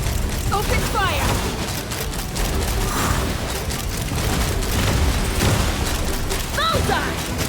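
Weapons fire and explosions from the Genshin Impact video game form a busy, continuous barrage of booms and mechanical clatter, with short voiced exclamations cutting through now and then.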